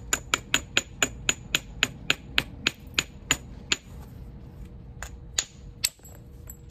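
A hammer stone strikes a flint core during flintknapping of a Clovis biface, giving a steady series of about fifteen sharp, close, loud stone clicks, then a few sparser hits.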